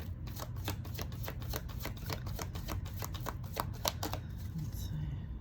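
Tarot cards being shuffled make a quick run of soft, rapid papery taps and flutters, fairly quiet, fading out near the end over a low steady background.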